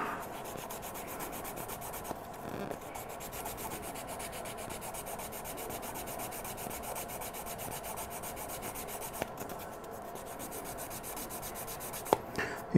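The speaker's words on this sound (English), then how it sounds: "I'm using a pretty coarse sanding stick right now for the initial sanding to get the shape" A coarse sanding stick rasps steadily back and forth over a Batman prototype build during initial shaping, with a continuous close scratching rub and a few small knocks.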